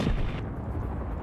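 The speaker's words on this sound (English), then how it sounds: "Some good bombing runs, though." A Vietnam war video game bombing run lands as one heavy, rumbling explosion that trails off into a low roar.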